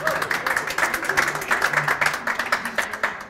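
A French television studio audience claps for the guest Monsieur Dupont in a brief, rhythmic burst of hand claps, close and moderately loud with a steady pulsing beat.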